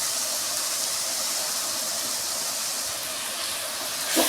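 Tomatoes sauté in a pan with turmeric and chili powder, giving a steady, close sizzling hiss that runs throughout with a brief clatter near the end.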